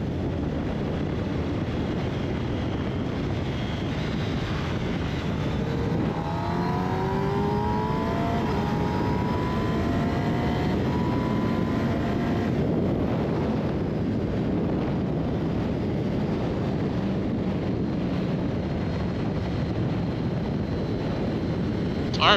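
A Kawasaki ZX10R motorcycle pulls hard in fifth gear in road mode, a loud rising engine whine under steady rushing wind, continuous with no speech.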